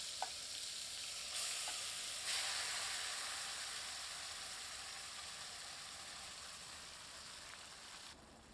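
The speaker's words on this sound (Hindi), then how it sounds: "अब इस तेल में मैरिनेटेड किया हुआ चिकन डालते हैं।" Marinated chicken drops into hot oil already seasoned with cloves and cumin for a dhaba-style chicken angara curry, giving a loud, steady, close sizzle that holds for the whole stretch with no talking.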